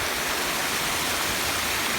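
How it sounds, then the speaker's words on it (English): A waterfall and babbling brook at a 9/11 memorial run as a loud, steady, continuous rush of water with no pauses or voices. "Coming that way, we got a waterfall on the right here. Coming down, got a babbling brook area like that."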